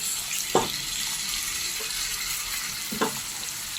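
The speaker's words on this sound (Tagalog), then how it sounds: "Sunod na yung chicken natin guys. Gisa natin." Chicken sautés in a pan with a steady, close sizzle, broken by two sharp clinks of stirring against the pan.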